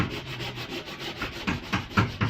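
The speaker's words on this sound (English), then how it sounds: "I'm using 80 grit sandpaper." Coarse 80 grit sandpaper rubs over dried wood filler in quick, uneven strokes, a soft, close scratching that builds a little louder toward the end.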